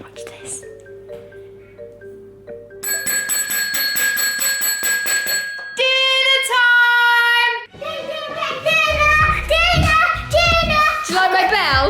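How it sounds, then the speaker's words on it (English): Child ringing a bicycle bell indoors at home, a string of bright metallic rings and trills that grow busier and louder, mixed with household clatter and bits of a voice. "Do you like my bell?"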